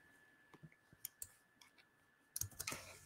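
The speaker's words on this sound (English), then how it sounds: "I'm typing that out." Typing on a keyboard: a few scattered light key clicks, then a quicker cluster of taps near the end, close but quiet, with no talk.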